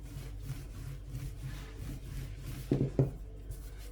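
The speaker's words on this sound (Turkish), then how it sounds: "Merdane yardımıyla yufkamızı açma işlemine geçiyoruz." Rolling pin being worked over floured börek pastry dough on a board: soft, repeated rubbing strokes close by, ending in two slightly louder thumps, with no talk.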